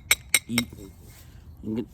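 Two crisp clicking strikes of flint knapping as small smoothing flakes come off a stone blade edge, followed by brief low voice murmurs.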